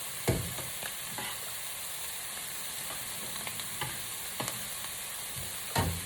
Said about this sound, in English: Stir that pasta a little bit.